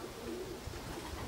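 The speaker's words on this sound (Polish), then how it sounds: "Mamy pierwszego gołębia." Racing pigeons returning to a club loft in Czersk, Poland, after a 550 km race. Soft pigeon coos run steadily through the clip under a constant outdoor background hiss.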